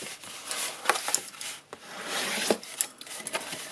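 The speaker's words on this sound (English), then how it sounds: "we're going to do more or less the same thing with the lid. So again, we're going to burnish all the way" A paper gift box lid being burnished by hand, giving dry, scratchy rubbing strokes in short irregular passes, close up and fairly loud.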